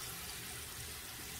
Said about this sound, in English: Sorry about the water running, but I was rinsing out the little thing, the little tray.